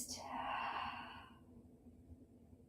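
One long, deep exhale during a yoga exercise, a breathy whoosh that is strong at first and then trails off into quiet room tone.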